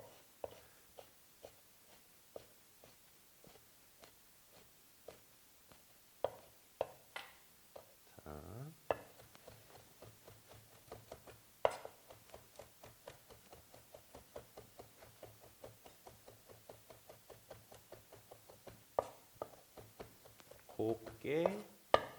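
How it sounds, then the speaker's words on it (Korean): Knife mincing thinly sliced ingredients for a Japanese appetizer on a cutting board, a quiet, close, regular tapping rhythm of quick chops that continues throughout, with brief soft sounds in between. "다지실 거예요."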